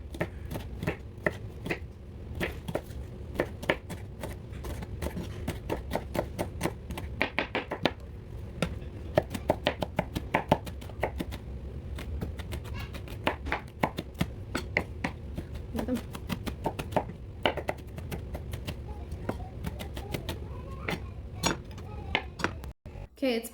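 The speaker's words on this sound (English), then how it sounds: "you're just gonna chop them up" A knife chopping strips of jalapeno on a cutting board, a rapid run of sharp close taps that comes in uneven bursts and pauses, with no talking.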